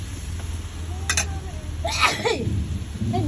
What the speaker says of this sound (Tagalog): ay, nabahing ako sa paminta